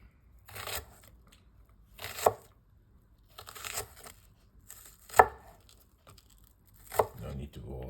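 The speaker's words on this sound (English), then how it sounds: "Get some onions diced." Onions are cut with a knife in a handful of separate bursts of crunching and slicing, each ending in a sharp tap on the board, with quiet pauses between strokes.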